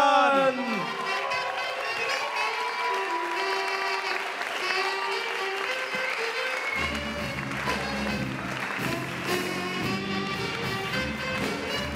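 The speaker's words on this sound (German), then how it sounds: "Bitte tragt sie herbei mit Lärm, Liebe und Applaus" Audience applause welcoming a poet from Graz onto the stage at a poetry and jazz slam in a bar, continuous clapping mixed with music and voices, a low bass tone joining partway through.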